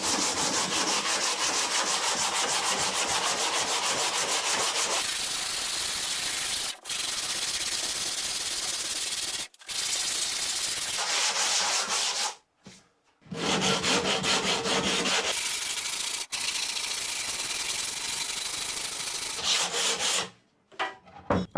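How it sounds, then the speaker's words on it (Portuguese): Reclaimed wood being hand sanded with no. 50 sandpaper wrapped on a block, loud rhythmic gritty rubbing strokes in long bursts separated by short pauses. "Eu vou começar lixando o meu pedaço de madeira para tirar essa sujeira dela"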